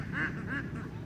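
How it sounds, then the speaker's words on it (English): Little mallard ducklings quacking close by outdoors, two short soft calls in quick succession. "These are little mallards."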